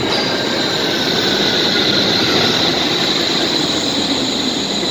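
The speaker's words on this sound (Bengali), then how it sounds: "এই দেখুন স্কাই ট্রেন আসতেছে।" Suspended sky train arriving in Dortmund, Germany, a continuous loud roaring rumble with a high metallic wheel squeal running through it.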